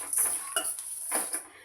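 Peanuts and urad dal being fried and stirred in a pan, with a few scraping, clinking strokes of a spatula against metal over a steady hiss, close and fairly quiet.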